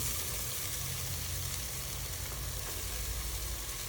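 Dill greens dropped into hot oil with shredded coconut sizzle and fry in a steady, dense hiss with a low rumble beneath, close by and constant throughout, with no talking.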